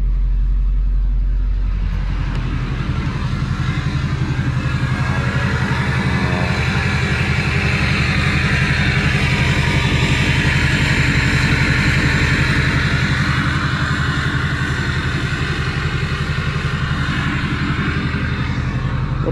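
A Duramax diesel truck idles in its hiss idle tune, a steady, loud low rumble with a broad hissing wash above it, unchanging and close for the whole stretch with no voices.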